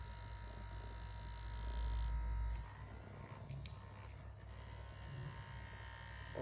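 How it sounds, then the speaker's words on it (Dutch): A handheld massage gun buzzes steadily close by, a quiet motor drone that grows louder and rougher for a moment, then settles back into a constant hum. "En de massagegun."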